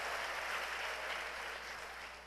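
Sustained applause from a church congregation during a worship service, a dense, even wash of clapping that fills the room for the whole stretch and tapers slightly toward the end.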